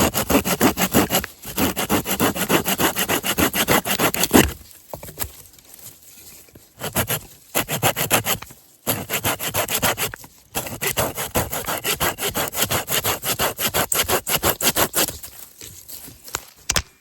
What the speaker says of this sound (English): I've cut some wood with my very good saw